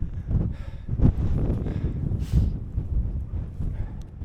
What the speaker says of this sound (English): the more elevation that we gain, the wind's getting stronger